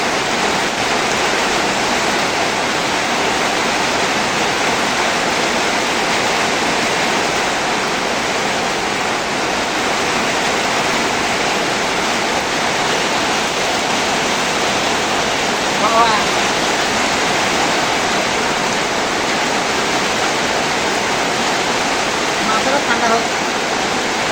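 Heavy rain pours steadily and loudly throughout, a dense, unbroken roar close at hand with no clear gaps.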